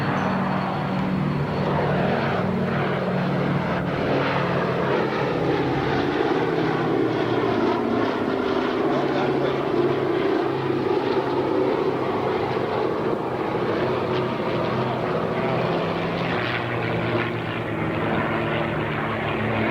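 A P-17 propeller warbird flies past at an airshow in Geneseo, New York, its engine drone steady and fairly distant, holding a continuous rumbling tone throughout with no talk over it.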